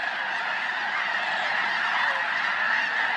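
A dense flock of geese honks continuously at Bosque del Apache wildlife refuge, a chaotic, overlapping chorus of calls that stays loud and steady throughout.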